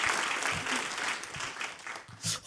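A church congregation applauds during a Sunday worship service, a steady wash of clapping from many hands that fills the room and swells again briefly near the end.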